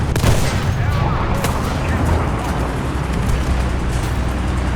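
Enemy aircraft gunfire in War Thunder, a dense, continuous rattle of distant automatic fire blended with engine and battle noise, steady and loud throughout.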